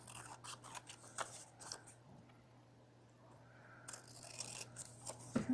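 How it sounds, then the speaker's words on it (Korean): Scissors snip through colored origami paper in a series of quick, close, crisp cuts with short pauses between them. "그리고 가위로 자릅니다."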